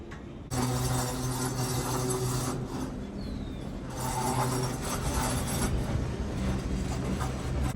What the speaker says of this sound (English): All right, so the train's moving.